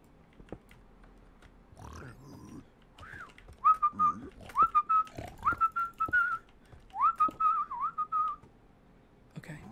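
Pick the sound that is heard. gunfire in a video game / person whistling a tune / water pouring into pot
person whistling a tune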